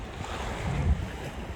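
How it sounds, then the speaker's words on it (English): Big waves wash and churn on a lake around a kayak, a steady rough surging roar mixed with wind buffeting the microphone, with a heavier slosh near the middle. "The waves are really big."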